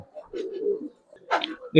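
High flyer pigeons coo in soft, low murmuring phrases, a few short bursts close by with brief pauses between them.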